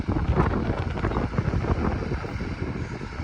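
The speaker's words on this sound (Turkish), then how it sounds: "Biraz rüzgarlı hava." Steady wind buffets the microphone with a low, continuous rumble and gusty roar throughout.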